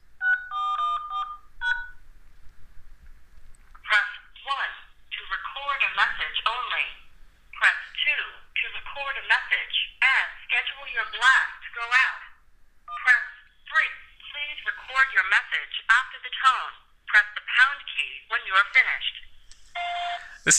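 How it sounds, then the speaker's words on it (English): A touch-tone phone dials a phone-in message recording system, giving a short burst of DTMF beeps, followed by a long stretch of a person speaking over the line. "how you can record a message through any touch-tone phone"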